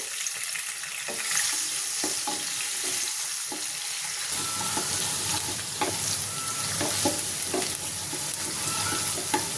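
Onion tossed into a hot pan for a fish curry fries with a steady sizzle, while a spoon scrapes and stirs in repeated clicks and knocks throughout.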